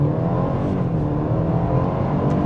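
A BMW 320i xDrive G20 with a Stage 1 tune accelerating hard from a standstill toward 100 km/h, giving a steady, loud, full engine drone from inside the car with no talking.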